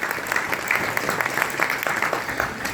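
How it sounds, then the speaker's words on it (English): Crowd applause at a building project presentation, steady loud clapping from an audience throughout, with no talking over it. "Can I get a huge round of applause in terms of where we've got within the last 10 years?"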